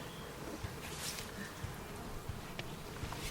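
Bees buzz continuously around the listener, a dense, faint droning hum with occasional closer passes, and no voices.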